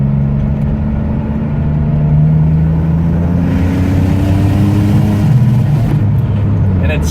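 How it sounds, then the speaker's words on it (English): Turbocharged Nissan Maxima accelerating hard through a third-gear pull, a loud, steady engine drone with harmonics climbing in pitch as revs rise, then settling as the pull ends. "So here's another third gear pull."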